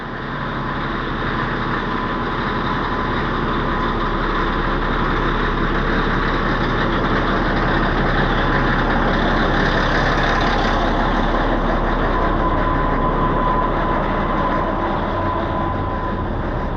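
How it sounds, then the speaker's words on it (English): A large rear engine of a 637C runs with a steady, loud clattering drone, rising slightly midway and continuing without pause; no speech is heard. "let's go start that rear engine"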